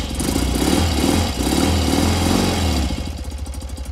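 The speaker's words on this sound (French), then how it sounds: "Alors, je vais vous la démarrer." A restored BMW R80G/S flat-twin motorcycle, already warm, starts up close by with a loud, throbbing engine rumble that settles into a pulsing idle.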